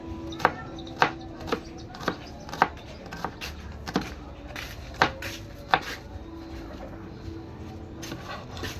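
A knife chopping onion and garlic on a board, a steady series of sharp close knocks about twice a second that thin out toward the end, with faint background murmur.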